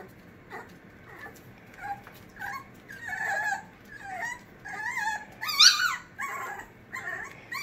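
A puppy whines and whimpers in a string of high, wavering cries, growing louder and more insistent toward the end.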